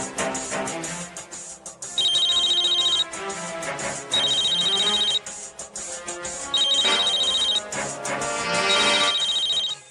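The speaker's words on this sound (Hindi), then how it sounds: "वैशु, जल्दी से तेज को फोन कर, उसे घर बुला।" A telephone ringtone repeats in four short bursts over a bed of music, loud and close, as part of a Hindi TV drama.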